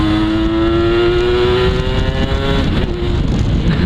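Kawasaki Ninja 150 RR two-stroke sport motorcycle with a sticking KIPS power valve runs close and loud, its engine note droning steadily and climbing slightly before dropping off near the end.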